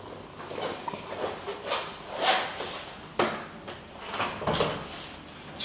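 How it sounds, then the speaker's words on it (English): Emperor three-section aluminium bifold doors being swung shut via the master door and slid across, giving a series of clacks, rolling rumbles and thuds spaced over several seconds, close by with no talking. "To close the three-section bifolds, we simply use the master door at this certain angle, bring the door over, and then we'll simply slide across."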